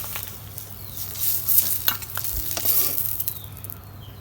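Eggs frying in hot oil in a pan, a close steady sizzle with crackling pops and a few stirring scrapes and clinks throughout, no voices.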